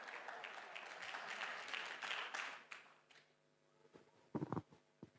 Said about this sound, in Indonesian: Oke, beri tepuk tangan buat keluarga Samara.